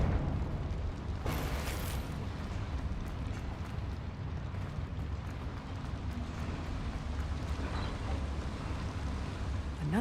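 Confringo blasting spell explosion in the Hogwarts Legacy video game, a sustained loud rumbling blast with a sharp burst near the start, dense low roar continuing throughout.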